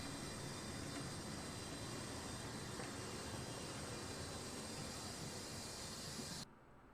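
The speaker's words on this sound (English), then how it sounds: "My gosh, this plane is big." A huge Antonov An-124 Ruslan cargo aircraft gives off a loud, steady broadband roar of engines that holds evenly for over six seconds, then cuts off abruptly.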